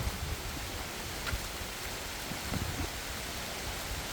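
Rain falling over a beach campsite at Monkey Bay, Port Dickson, a steady, even hiss of drops that holds for the whole stretch with no voices.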